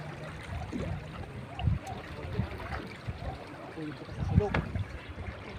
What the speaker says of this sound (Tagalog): Parang malakas ang tubig ah.